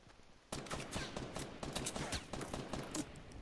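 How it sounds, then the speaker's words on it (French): Gunfire in a Fortnite match, with a sniper rifle shot among repeated sharp cracks that start abruptly and continue in a rapid, irregular burst at moderate loudness with no talking. "Il m'a mis une balle de snipe"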